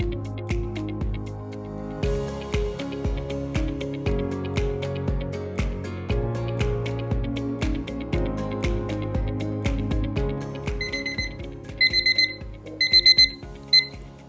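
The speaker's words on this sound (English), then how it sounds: "When your timer goes off" Timer alarm going off during the wait for a home COVID-19 test, a bright electronic melody of repeating beeping tones that plays steadily and ends in rapid high chirping bursts, loud and alone.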